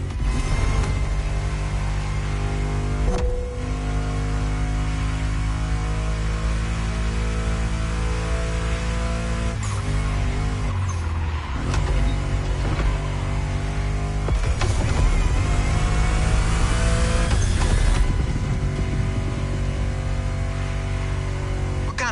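A Mustang GT muscle car engine in the racing game The Crew Motorfest drones and revs continuously, with rising and falling pitch sweeps through shifts, mixed with background music and no talk.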